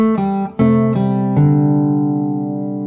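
A fingerstyle acoustic guitar plays a short phrase: several close, clear plucked notes in steady succession, the last one left to ring and fade slowly, with no voices.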